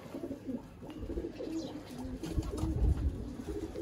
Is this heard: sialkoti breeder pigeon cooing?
yes